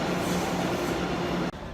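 A Boston subway train rolls through downtown with a steady, loud broadband rumble and rail roar throughout, dipping sharply near the end as if braking or passing a gap.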